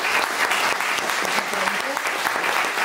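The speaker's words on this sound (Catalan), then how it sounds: "Un aplaudiment." Audience applause at a literary gathering, steady dense clapping filling the room for about three seconds, with a few faint voices murmuring underneath.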